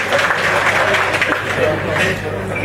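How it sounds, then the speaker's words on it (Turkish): An audience at a farewell program gives steady, loud, dense applause that runs throughout, with voices mixed into the clapping. "Alkışlayabilirsiniz."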